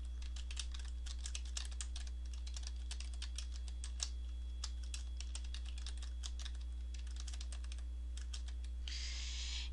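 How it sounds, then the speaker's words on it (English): Steady, fast clicking of keys on a computer keyboard as text is typed into a design program, close and continuous over a low electrical hum, with a brief hiss at the very end. "use your keyboard to type"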